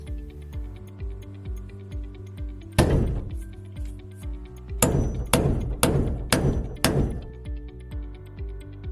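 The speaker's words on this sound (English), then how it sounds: "Flip the hammer and drive it in the rest of the way the usual way." A hammer strikes a nail with sharp, ringing blows: one hit, then a quick series of five or so firm strikes, over a quiet musical background.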